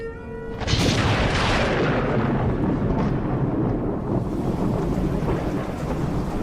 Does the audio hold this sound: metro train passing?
no